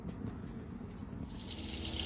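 Hot water runs from the tap of a 2019 Swift Escape 614 motorhome, a steady close gush into the sink that swells slightly louder toward the end, with no talking.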